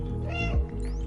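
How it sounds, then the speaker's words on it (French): A single short cat meow, clear and close, from the cat in the video game Stray, with a brief bright chime-like game sound trailing at the end. "Petit miaulement d'au revoir"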